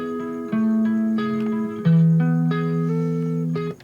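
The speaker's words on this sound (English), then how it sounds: "So I've got this lead-ish part going in the verse." Slow melodic lead line on guitar for a song's verse, sustained single notes stepping up and down one after another, clear and unaccompanied.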